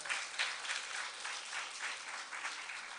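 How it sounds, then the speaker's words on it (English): Sunday morning service congregation giving a round of applause, an even, moderately faint patter of many hands clapping that continues steadily with no voices on top. "So a round of applause for Raj."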